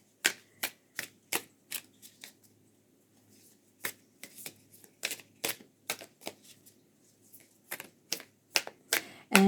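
An Alchemy of the Spirit oracle card deck is shuffled in crisp, close bursts of riffling snaps, irregular clusters separated by brief quiet pauses.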